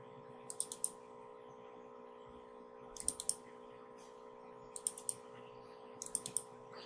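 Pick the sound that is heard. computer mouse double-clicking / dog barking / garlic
computer mouse double-clicking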